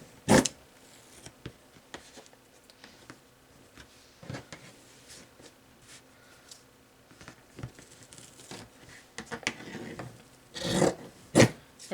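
Scissors snip and rasp through the spare corner fabric of a small stitched chalkboard piece, close and quiet. Irregular cuts and rustles come in short bursts with pauses between them.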